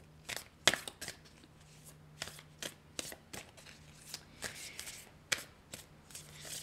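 Sacred Traveler oracle cards being shuffled by hand, a series of close, crisp riffling and slapping bursts in an irregular rhythm, with no talking.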